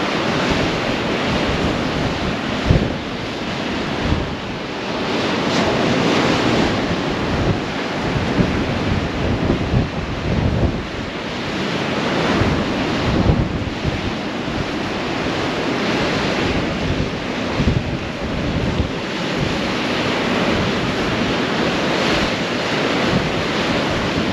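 Strong wind buffets the microphone on the Holderness coast at Easington while waves surge and break nearby, forming a loud, continuous roar with gusty swells and no voices.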